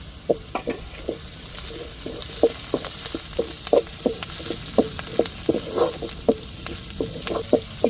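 Tomatoes fry in a hot pan for a chicken dish, a steady sizzle broken by repeated quick scrapes and clacks of a spoon stirring them up close.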